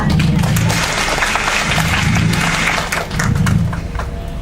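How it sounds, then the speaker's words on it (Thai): Audience clapping for a volunteer at a school chemistry science show in Thailand, a loud, fairly sparse patter of hands over low background hum, with a brief dip near the end. "ขอเสียงปรบมือให้อาสาสมัครของเราด้วยค่ะ"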